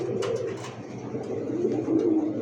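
A pigeon at a pigeon market coos in soft, repeated throaty phrases, close and fairly quiet, with a few faint sharp background clicks and no talk over it.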